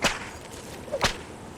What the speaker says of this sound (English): You can't use the whip in the water.